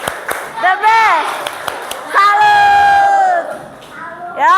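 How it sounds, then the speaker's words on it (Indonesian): An Indonesian primary school class performs a 'tepuk salut' clapping chant, with children's voices shouting and singing loudly in unison among sharp claps, the sustained chanted notes rising and falling together in a classroom. "Yuk, tepuk salut."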